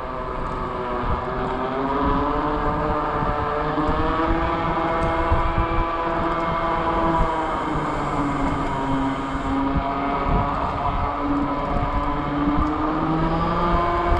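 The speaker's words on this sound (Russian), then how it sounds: "Вот здесь, наверное, будет слышно, какой звук от резины идет. Это я сейчас еду на заднем приводе." A Kugoo Kirin G4 Pro electric scooter riding on rear-wheel drive, its tyres and motor giving a steady droning whine with shifting tonal pitch and rushing air noise, continuous and fairly loud throughout with no speech.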